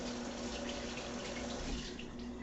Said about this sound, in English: now I'm gonna wash my hands real fast